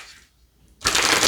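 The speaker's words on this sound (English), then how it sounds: "So I'm not going to do my usual shuffle for these." Tarot cards are shuffled in a quick, crisp riffle that bursts in loudly after a short near-silent pause.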